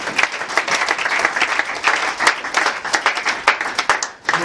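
A church congregation claps and applauds to acclaim the Lord during a worship service, dense and loud, with steady overlapping hand claps for about four seconds and faint crowd noise underneath.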